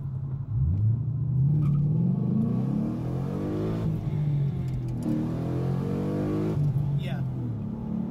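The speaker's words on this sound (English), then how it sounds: "I think I hit the rev limiter right there." A 2013 Mustang GT running on E85 revs hard up into the rev limiter, its loud V8 rising steadily through a sustained roar that sits close and constant for the whole stretch.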